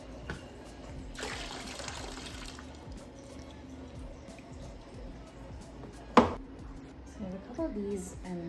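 Tap water runs steadily into a film developing tank for a rinse in a darkroom lab, a soft continuous splash with a brief louder gush near the end.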